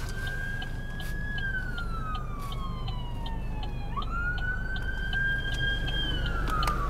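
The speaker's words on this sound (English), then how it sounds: "here comes an ambulance" An ambulance from Bellwood heading to Elmhurst Hospital passes with its siren wailing loud and steady, the tone sweeping down and back up over a constant low traffic rumble.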